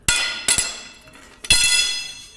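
Sharp metallic clanks ring out as a socket breaks on a very tight bolt: two quick strikes, then a pause, then a louder crack with a ringing decay, close and alone.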